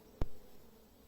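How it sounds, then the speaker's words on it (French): A swarm of wild honeybees gives one short, faint buzzing burst against quiet background hiss. "Oh, mais tiens, un essaim ici."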